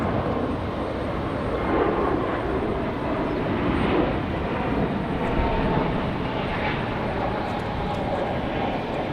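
A Frontier Airbus A321 jet airliner at Raleigh-Durham International Airport makes a broad, steady engine rumble that holds at an even loudness throughout, with no talk over it.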